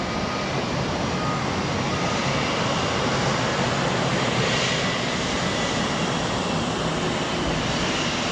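Boeing 777X taxiing at King County International Airport (Boeing Field), a steady, loud broadband engine roar that holds constant throughout with no talk.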